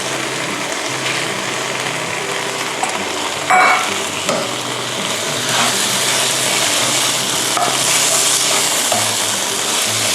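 Fried catfish tossed dry with red curry paste in a pan, a loud continuous sizzle and rustle with scattered scraping stirs and one brief clatter, no talk.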